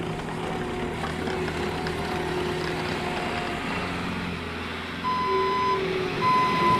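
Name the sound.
2020 Bobcat T76 compact track loader operating, reversing beeps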